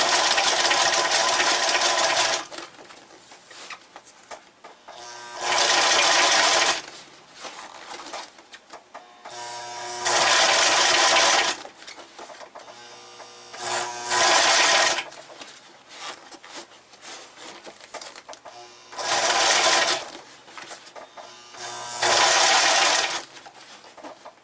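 Machine stitching through a vinyl motorcycle seat cover in repeated loud bursts of a few seconds each, separated by quieter gaps of handling noise, with no speech.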